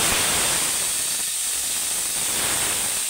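Vegetable stalks hitting hot frying oil after potatoes have been fried, giving a loud, dense, continuous sizzle and hiss close up that holds steady throughout with no talking.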